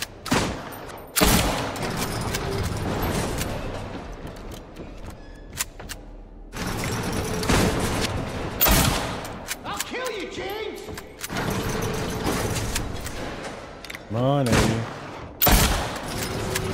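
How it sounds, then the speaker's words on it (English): Gunfire in the video game Silent Hill 2 comes in sharp bursts of shots separated by quieter gaps, with thuds and other game effects between them. "Don't waste your good ammo on Eddie"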